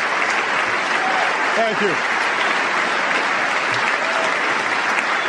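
Applause from a speech audience in a played-back recording, sounding thin and polite like a golf clap, a steady wash of clapping throughout with a brief spoken line over it.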